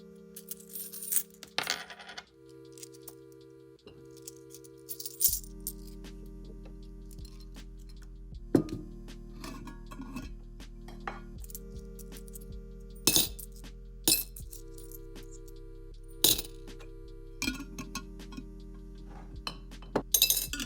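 Coins clink and drop one after another onto a surface while cash envelopes are sorted for sinking funds, bright metallic chinks and ticks scattered over twenty seconds against a steady hum.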